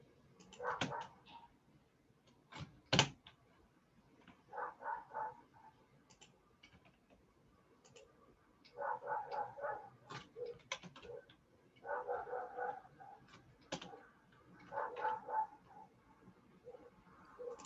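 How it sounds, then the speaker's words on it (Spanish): Several dogs barking in the distance in repeated bursts of short yaps separated by pauses, faint and distant, with occasional sharp ticking clicks and no talk. "están a full los perros"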